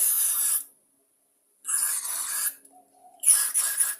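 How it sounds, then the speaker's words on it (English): Two bursts of hissing spray from an aerosol cleaner into a Honda lawn mower carburettor, separated by a pause, close up and fairly loud. "Just give them all a bit of a spray out like that"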